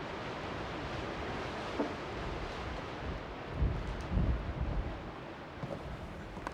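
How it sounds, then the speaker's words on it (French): Strong wind on the summit of Mont Gerbier des Joncs, a cone on the Ardèche plateau at 1551 m, roars and buffets the microphone in a dense, continuous rush with heavier gusts. "Imaginez la force du vent."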